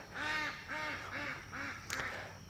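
Four rhythmic nasal honks from geese kept in a little pen, fairly close, followed by a brief knock and a sharp bump at the very end.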